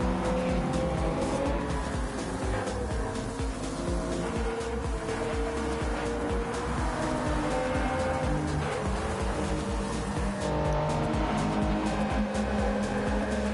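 Race cars including a Toyota Supra and a Subaru battle for fourth place at Fuji in Gran Turismo 7, with steady engine drone, revving and occasional tire squeal filling the scene continuously at close range.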